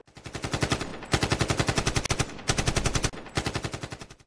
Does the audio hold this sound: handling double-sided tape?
no